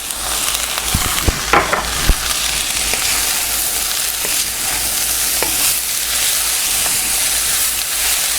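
Brussels sprouts frying in olive oil with salt and pepper, a steady loud sizzle with a few scraping stirs near the start.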